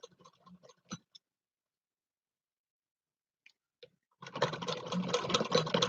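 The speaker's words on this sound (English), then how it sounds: "I'm stitching it as close as I can next" A sewing machine runs up close, stitching along a fabric edge for feminine napkins. A few faint ticks and clicks come first, then near silence, then a dense mechanical whir starts and continues to the end.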